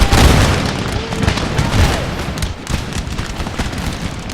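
A musket volley from line infantry in Empire Total War: a loud crackling burst of shots up front that fades into scattered pops and battlefield rumble.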